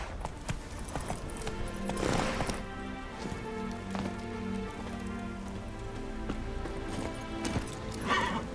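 Geralt's horse Roach in The Witcher: a galloping clip-clop of hooves under a bed of rain, music and ambient game sound, steady across the stretch with no voices.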